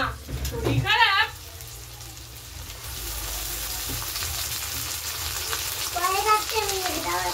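Spice paste frying with fried onions in a pan, a steady sizzling hiss that lasts throughout, while a voice speaks over it at the start and again near the end.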